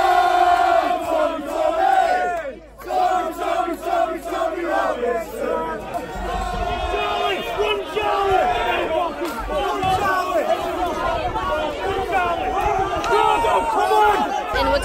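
A crowd of rioters shouts and yells as they run toward a street rally, a dense, loud surge of many overlapping voices with raised cries cutting through, sustained throughout.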